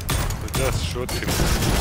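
Gunfire from shooting at a boss in the video game Witchfire comes as a loud, dense fusillade of rapid shots that barely pauses across the moment, close and forceful.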